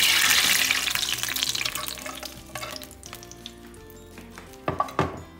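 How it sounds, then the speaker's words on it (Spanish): Beans frying in oil in a pan for tostadas, a loud broadband sizzle that eases off, with scattered clinks and stirring knocks near the end; no one speaks. "yo voy a freír mis frijoles para mis tostadas"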